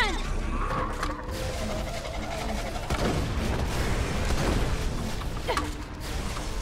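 Borderlands 2 combat with booming explosions and bursts of gunfire, plus mechanical clanks and whooshing effects layered together.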